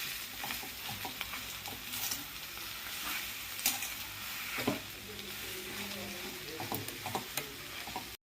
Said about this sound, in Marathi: आता ही भाजी आपल्याला पूर्ण मिक्स करून घ्यायची.